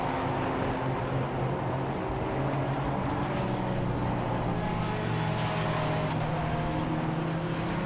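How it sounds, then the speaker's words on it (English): A McLaren race car in a Britcar Endurance Championship race at Silverstone roars past, its engine note loud and sustained, rising and shifting as it goes by with other track noise underneath. "There goes Will Powell in the McLaren"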